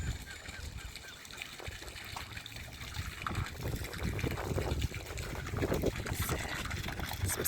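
A garden fountain trickles and splashes steadily beside a murky pond holding goldfish, a continuous close wash of falling water with geese honking intermittently somewhere nearby.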